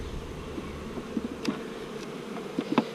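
Honeybees drone around an opened, weak hive colony, a faint steady buzz with a few brief louder passes as individual bees fly close.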